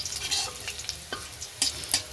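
Garlic frying in oil in a home kitchen pan, a soft, steady sizzle with a few brief stirring scrapes and clinks, close and fairly quiet.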